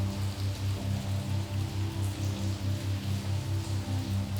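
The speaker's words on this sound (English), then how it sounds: "Now it's just this overwhelming silence and the rain hammering down" Steady, dense rain hammering on the roof of an abandoned car factory, with a low pulsing hum underneath; no voices, just a continuous wash of patter.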